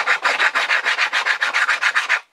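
Wood on a Kwik-fli Mk III model airplane being sanded with a sanding block, about fourteen quick even back-and-forth rasping strokes, close and loud, with no talk.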